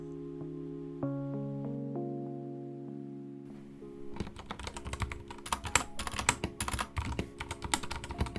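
Typing on a stock, unmodded budget Mageegee Star 61 mechanical keyboard with Outemu brown switches: a dense run of close, clacky keystrokes in uneven rhythm, starting a few seconds in after a quiet stretch with a low hum.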